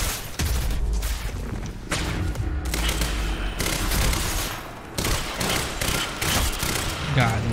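Tactical SMG fire in Quantum Break crackles in repeated loud, close bursts mixed with impacts and thuds, with someone talking at times over the shooting.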